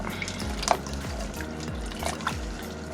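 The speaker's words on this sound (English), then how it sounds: "Let's get a spoon and let's give that a stir." A spoon stirs a pot of vegetable soup, churning the liquid in a steady repeating rhythm with soft sloshes and a small clink, heard close with no talking.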